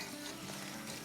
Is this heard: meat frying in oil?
yes